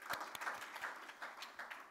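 An audience at a technical talk on P2P multiplayer applications gives scattered applause: a quiet run of separate, fairly sparse claps rather than a dense roar.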